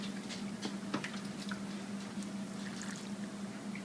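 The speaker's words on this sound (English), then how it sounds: "Put some of this delicious broth over it." Cajun gumbo broth with smoked sausage, shrimp, tomatoes and chili peppers ladled over rice, heard as soft liquid pouring and faint spoon clicks over a quiet steady background hum.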